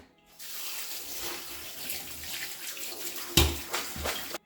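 Running tap water splashes steadily into a sink as dried fruit is rinsed and stirred, with a couple of sharper clatters near the end.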